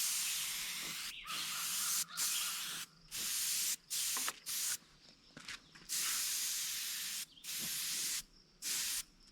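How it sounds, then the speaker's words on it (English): Short bursts of a spray gun misting gold pearl paint onto a northern pike replica, about a dozen hissing sprays of uneven length with brief silent gaps between them, close and fairly quiet. "Then I'm going to mist a coat of gold pearl along the back."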